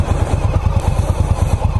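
An Indian Scout Bobber motorcycle engine rumbles loudly and close, with a fast, throbbing low pulse and rattling clatter over wind noise as it rides.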